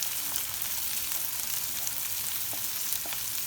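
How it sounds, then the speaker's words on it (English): Capsicum and corn go into a pan of transparent frying onions, giving a steady, close hiss and sizzle with faint crackles throughout and no voices. "Now that the onions are transparent, let's add the capsicum."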